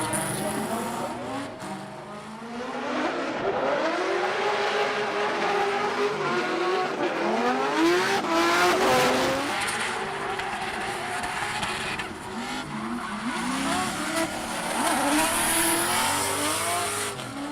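A Formula Drift Pro 2 car on its lead run in a final round screams through a long drift, the engine revving hard and wavering under continuous loud tire squeal, with brief lifts and surges throughout.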